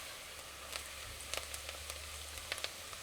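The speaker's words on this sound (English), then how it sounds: "so our onions are frying up" Onions fry in hot oil, a soft, steady sizzle with scattered faint crackles and pops, heard close with no talking.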